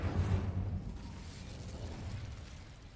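A burst of fire from the Incendio spell in Hogwarts Legacy, with a low rumbling whoosh up front that fades into a softer crackle over about three seconds, and no voices.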